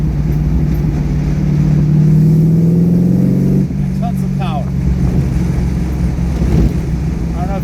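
A Modena California Spyder car from Ferris Bueller's Day Off accelerates in third gear, its engine rising steadily in pitch before settling into a loud, continuous drone, with someone speaking over it.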